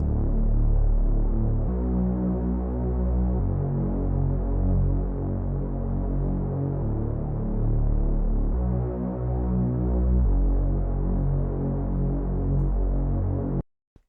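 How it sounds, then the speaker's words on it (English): A thick, throbbing reese synth bass drones continuously, its pitch shifting a couple of times with a wavy, detuned wobble, loud and alone before cutting off abruptly. "But this is what the reese sounds like."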